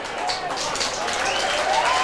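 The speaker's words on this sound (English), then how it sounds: "Stuart Dew, that's the applause in the grandstand" Applause from a crowd in the grandstand at a 1996 Australian rules football match, a steady broad wash of clapping and crowd noise running through the whole moment, with a commentator's voice over it.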